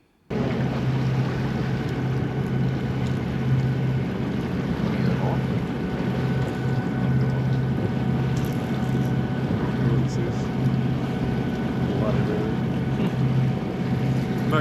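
Sailing boat motoring under engine power on a calm day in the Whitsundays, a steady low engine drone with wind buffeting the microphone and water noise, continuous throughout and fairly loud.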